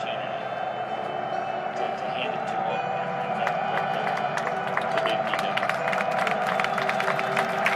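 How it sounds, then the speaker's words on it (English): Fans clap in the stands at the 2011 IZOD IndyCar race in Las Vegas. Scattered, sharp claps build over a steady crowd din, with a voice talking underneath. "Fans are now clapping."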